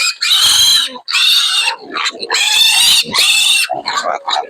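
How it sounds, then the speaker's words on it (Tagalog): Growing farm pigs oink and squeal loudly in repeated bursts, several animals close by, noisy and overlapping. "Oh, yung mga palaking baboy."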